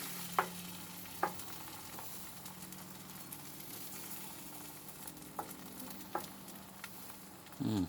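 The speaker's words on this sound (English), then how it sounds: "So the eggs will cook up." Eggs fry over fried rice in a pan with a soft, steady sizzle, broken by a few light taps and scrapes of stirring, quiet and close.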